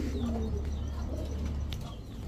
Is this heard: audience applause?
no